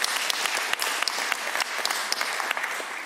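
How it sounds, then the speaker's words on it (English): A chamber of the Alberta Legislative Assembly breaks into applause, a dense, steady clapping from many members with sharp individual claps standing out, and a faint voice underneath. "that deserved a round of applause"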